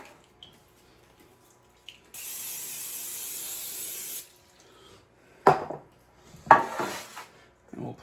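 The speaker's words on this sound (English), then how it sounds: "So we'll get some Pam to spray these pans." A single steady hiss of cooking spray onto baking pans lasts about two seconds, followed by a couple of sharp metallic clatters of pans being handled nearby.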